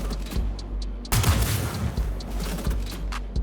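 Sniper rifle fire in the video game Star Citizen, one loud sharp report bursting out partway through with a rumbling tail, over a low steady background hum.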